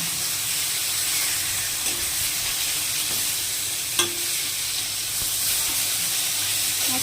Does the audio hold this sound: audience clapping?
no